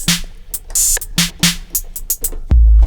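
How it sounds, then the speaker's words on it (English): Emulator II sampler preset played in Arturia Play software: a run of short, sharp percussive hits in an uneven rhythm, ending with a loud sustained low bass tone, up close with no talking. "Emulator 2."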